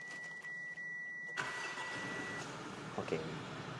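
A car engine with the clutch pressed cranks and catches after a quiet second, then settles into a smooth, low idle with a faint tone fading out.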